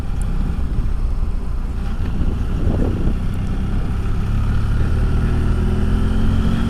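A 2017 BMW F800 GSA motorcycle hums steadily on the road with heavy wind buffeting the microphone, the engine note rising gradually toward the end.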